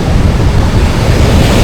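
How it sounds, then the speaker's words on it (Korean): Ocean waves surging loud and close to a beach campsite at night, a continuous roaring wash of surf mixed with heavy wind buffeting. "자다가 파도 소리가 엄청 가까이서 들리고 크게 들려서"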